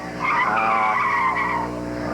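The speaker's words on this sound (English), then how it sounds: "The brakes are working today, finally." A car brakes hard at a 1988 autocross (Solo 2) national event, its tires letting out a loud, sustained skid squeal for about a second and a half before fading.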